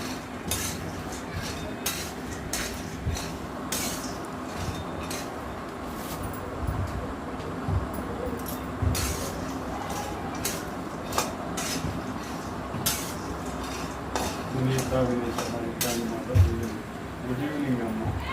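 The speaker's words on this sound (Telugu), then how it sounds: "ఏర్చిన పప్పులు వేయించుతున్నాను అన్నమాట బండిలో పోసి" Peanuts roast in a pan, stirred with light scraping and clinking of a utensil against metal, steady and close while someone talks over it throughout.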